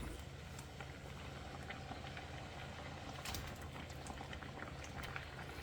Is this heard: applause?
no